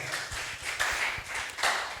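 Faint, scattered hand clapping from a church congregation applauding God, soft irregular claps over a quiet room.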